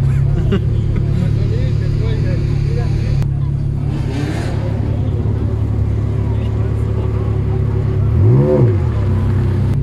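A Ferrari V8 and a Lamborghini Murcielago rev their engines, a loud steady roar with a rising and falling rev swell near the end, while people talk over it.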